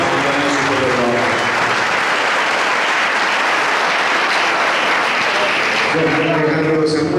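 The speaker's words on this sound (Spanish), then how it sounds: "un fuerte aplauso para todos los trabajadores de prensa" Loud, sustained crowd applause for press workers at a labour and economy forum in Bernal, continuous clapping with voices shouting briefly at the start and near the end.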